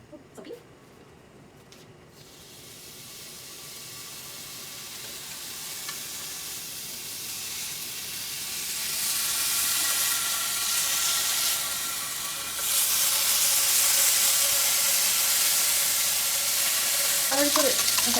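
Beef sizzling in a pan for macaron fillings, a steady frying hiss that swells louder midway and keeps crackling, with occasional stirring and brief talk beneath.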